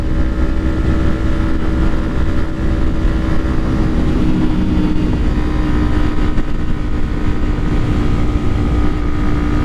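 A 2012 Kawasaki Ninja 250R cruising in sixth gear: its engine holds a steady, even drone mixed with heavy wind rush, loud and close throughout with no talk.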